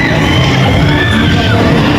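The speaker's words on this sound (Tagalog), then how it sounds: "Dito na maririnig yung sigaw ng dalawa kong kasama guys." Riders scream and yell together aboard a spinning amusement park ride at Enchanted Kingdom, a loud, continuous burst of shrieks over steady ride noise.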